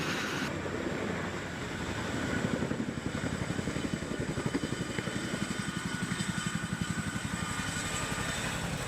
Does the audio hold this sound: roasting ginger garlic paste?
no